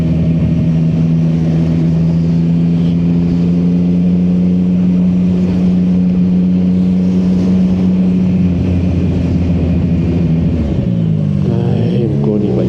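A motorcycle rides along a bumpy elevated highway, its engine droning steadily and loudly with constant road and wind rumble, the tone shifting and fading near the end.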